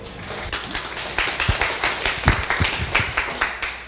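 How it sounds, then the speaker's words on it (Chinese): A classroom audience at a legal-theory lecture gives a speaker a short round of applause, uneven claps of modest loudness that rise and thin out over a few seconds. "请掌声欢迎"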